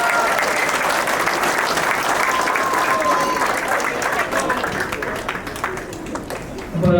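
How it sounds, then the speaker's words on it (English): An audience at an ARW Harvest Moon wrestling event applauds wrestler Greg with steady, dense clapping and crowd noise that runs the whole stretch, easing slightly near the end. "Let's give a round of applause for Greg, everyone."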